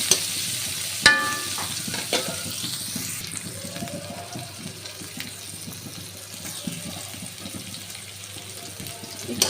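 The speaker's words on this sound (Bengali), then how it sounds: "একটু বাদামি করে ভেজে নিয়ে নিব, বাদামি কালার করে" Chopped onions with a pinch of salt fry in a pan, producing a soft sizzle with scattered stirring scrapes and a couple of sharp knocks near the start. The sound is moderately close and there is no talk.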